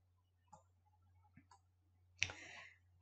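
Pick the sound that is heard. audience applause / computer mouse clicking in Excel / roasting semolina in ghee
computer mouse clicking in Excel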